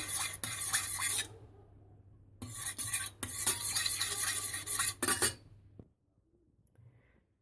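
A spoon or whisk scrapes and stirs a coconut milk panna cotta mixture set with agar agar in a pot, in two busy bursts of rasping strokes separated by a short pause, then quiet.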